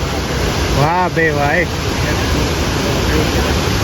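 Jamjir waterfall at Jamvala in Gir, Gujarat, gives a loud, unbroken roar of falling water close by, while a voice briefly exclaims in delight near the start.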